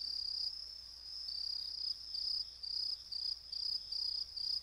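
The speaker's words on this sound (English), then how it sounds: "It's grasshoppers. You can hear them on a quiet night." Grasshoppers chirp on a quiet night in an animated children's show. The steady, high, pulsing trill is soft and continuous, with no talk over it.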